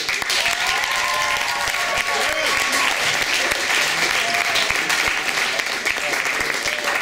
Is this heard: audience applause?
yes